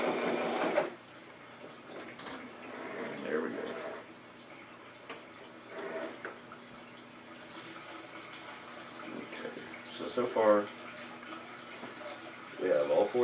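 Sewing machine back stitching along a handbag seam, short bursts of fast mechanical whirring close by separated by quiet pauses, with some faint handling noise.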